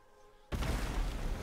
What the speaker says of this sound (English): That is the best explosion I've seen in this game.